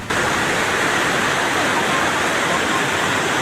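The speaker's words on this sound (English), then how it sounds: "Powerful, destructive flow" Raging brown flash-flood water rushes through a town street in Sakhon Nakhon, Thailand, a steady, dense roaring hiss that stays loud and unbroken throughout the short stretch, with no distinct voices.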